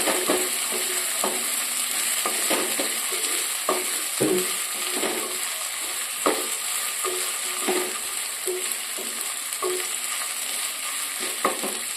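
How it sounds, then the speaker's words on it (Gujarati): Ginger-chilli paste sautés in a hot pan with a steady, bright, close sizzle, and a spoon scrapes and stirs it in repeated taps. Nobody talks. "एक चमची आदू मरचानी पेस्ट, તેને 1 મિનિટ માટે સાંતળવા દઈશું।"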